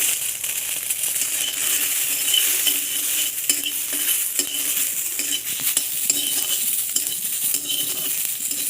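Garlic frying in mustard oil while a utensil stirs and scrapes the pan, a steady bright sizzle with repeated clinking strokes throughout, close and continuous.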